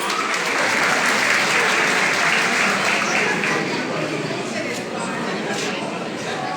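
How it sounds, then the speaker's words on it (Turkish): Sustained applause from an audience at a community association gathering, loud and steady throughout with some crowd chatter mixed in. "Hepsini toplam bir alkışlayalım."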